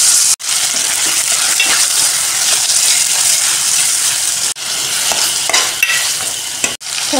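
Onions and chicken with ginger garlic paste stirred and frying in a pan, a continuous close sizzle with scraping stirs and a few brief pauses, no voices.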